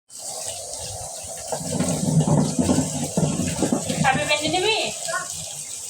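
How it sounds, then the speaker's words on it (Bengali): Okra being washed under a running kitchen tap, water splashing steadily and close for several seconds while someone speaks over it. "ভেন্ডিটা ধুয়ে নিতেছি ভালোভাবে"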